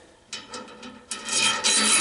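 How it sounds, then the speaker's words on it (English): A bearing slides onto the shaft of a bent-wing vertical-axis wind turbine, giving short metallic scraping rubs followed by a longer, louder grinding slide that builds toward the end. "So just slide a bearing on there"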